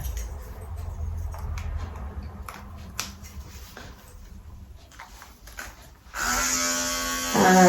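Electric clippers with a 16 mm guard buzz on near the end, close and steady, for trimming a West Highland terrier's head, after faint handling and clicking noises.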